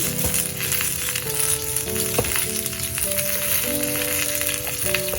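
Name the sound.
red potato pieces frying in a pan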